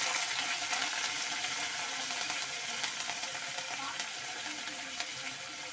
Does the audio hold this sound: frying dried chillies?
yes